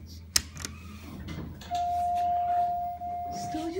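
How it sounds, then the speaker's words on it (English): Arrival chime from an Otis hydraulic elevator with the series 1 chime at a hospital in Wausau, Wisconsin: a single sustained tone held for over a second, loud and clear over building hum and faint background voices. "Still uses the series 1 chime."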